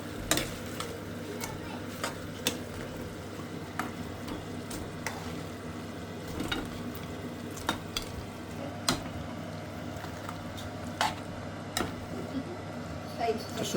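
Chicken lollipops go into a pan of gravy and are stirred, giving a low continuous sizzle with repeated sharp clicks and taps of the spoon against the pan.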